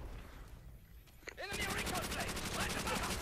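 Call of Duty: World at War gunfire, a sudden sustained burst of rapid automatic fire that starts abruptly and keeps hammering in a dense, loud rhythm, with a voice speaking briefly just before it.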